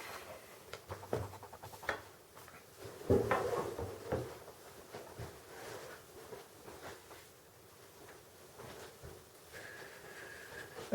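Latches and lid of a lockable plastic gun case for a Smith & Wesson 686 Plus Deluxe revolver being worked open, with clunks, clicks and hollow plastic knocks, close and moderately loud, no talking.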